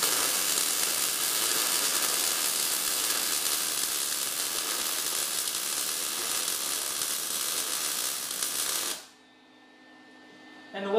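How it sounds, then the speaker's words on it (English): A MIG welder running too hot, feeding too much wire into thin metal, gives a steady loud crackling buzz that lasts about nine seconds and then cuts off abruptly into a faint hum. "the welder's too hot and too much wire for this material"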